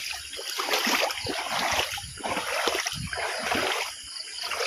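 Fast floodwater rushes across farmland after a night of rain, a steady, loud churning and splashing that fills the whole stretch without a break and with no voices.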